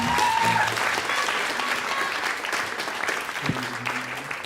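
Audience applause fills the hall at a Slovenian song contest final, steady clapping from a large crowd sustained throughout, with a few faint voices and tonal sounds beneath.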